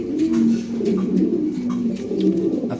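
A Pakistani grizzle Mundian pigeon coos in low, rolling, continuous phrases, close and steady across the whole stretch, with no voices over it.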